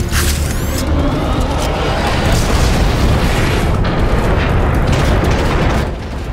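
Heavy booming blasts of warp cannons roll continuously in a dense, loud roar of explosions in Transformers: Fall of Cybertron, with a few sharp zaps at the start, fading slightly at the end.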